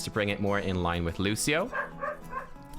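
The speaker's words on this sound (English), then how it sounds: "sorry if you can hear my dog barking at cats out there" A pet dog barks and yips at cats outside, the bursts fairly faint and partly buried beneath continuous nearby male speech.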